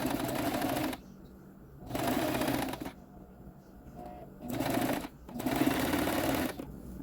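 A sewing machine zigzag-stitches fabric for a child's face mask, running in three separate bursts of rapid stitching with short quiet pauses between them.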